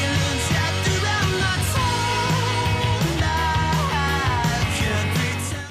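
Indie pop music with glossy guitars and jangly rhythms, playing loud and continuous with a steady bass line and bright layered guitar lines throughout.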